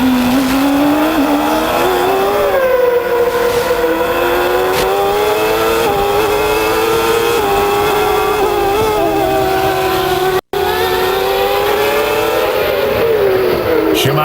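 Formula One race cars at Imola in 1994, Ayrton Senna's last race, including Schumacher's car lifting off the throttle behind slower traffic; loud, continuous high-pitched engine wail with rising and falling revs, close and unbroken, with a brief cut near the end.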